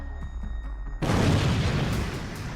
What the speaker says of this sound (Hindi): ईरानी शाहिद ड्रोन सीधे आकर गिरा और बड़ा धमाका हुआ